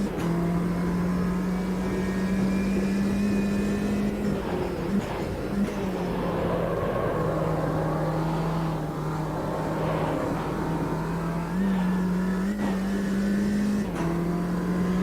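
The engine of a Ginetta G40 race car in the Automobilista 2 racing game drones steadily, holding a loud, even tone with shifts in pitch as it rises and eases through gears.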